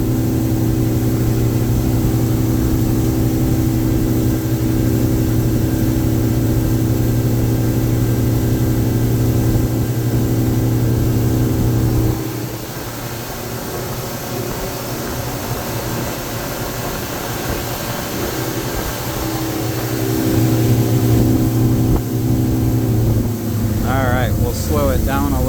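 A Monterey 258 motorboat cruises upriver with a steady, loud engine drone and water rush; the engine eases back midway, then swells again toward the end.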